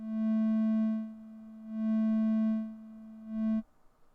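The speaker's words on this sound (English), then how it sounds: "make the frequency of the wave move up and down" Synthesizer wave from the video game Eliza, a pure steady electronic tone swelling and fading in three smooth pulses before cutting off abruptly, heard alone.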